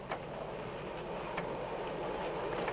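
A train rolls along the rails with a steady, muffled rumble and a few faint rhythmic clicks from the wheels, heard from inside the carriage with no talking.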